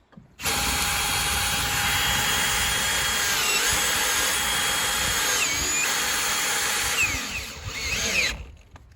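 Power drill driving fasteners through Simpson rim joist hangers on an ICF house build, one long continuous whine that rises and strains for several seconds, then winds down, with nobody speaking.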